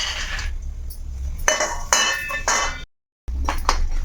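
Peanuts and cumin seeds spooned into a pan of oil, with a series of sharp metallic clinks and clatters of spoon against the pan, broken by a short silent gap.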